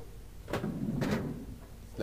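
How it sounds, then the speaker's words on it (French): In the Myst III game, a door swings shut with two soft, dull knocks about half a second apart. Each knock is a brief burst over a quiet, steady background hum. "La porte se referme."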